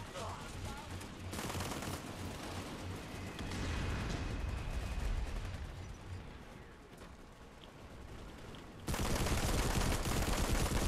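Sustained automatic gunfire and explosions in the shooter game Planetside 2, long stretches of rapid shots with rumbling blasts that drop away briefly, then return loudly.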